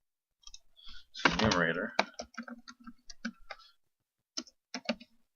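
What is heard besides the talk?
typing on a computer keyboard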